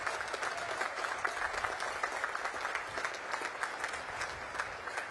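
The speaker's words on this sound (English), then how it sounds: "Please join me in recognizing and applauding these distinguished graduates." Distant, moderately faint applause rises from a large crowd at a Naval Academy commencement ceremony honouring distinguished graduates, a continuous patter of many hands.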